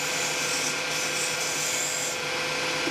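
Steady, continuous rasping scrape of a straight spear point tool cutting spinning wood on a lathe while shaping a handle insert, close and even throughout with no talk.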